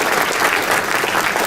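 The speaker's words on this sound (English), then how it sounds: "So I'd like to give them another round of applause." A crowd at a board meeting applauds returning board members with dense, steady clapping that stays loud and continuous throughout.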